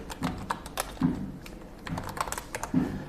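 Quick keyboard typing while a name is entered into an online form, a rapid, uneven run of light clicking keystrokes, close and steady throughout.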